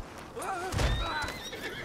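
A horse in Red Dead Redemption 2 gives a loud, close whinny with wavering pitch, accompanied by a heavy snort or stamp and faint hoof sounds.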